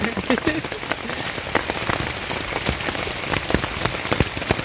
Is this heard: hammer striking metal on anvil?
no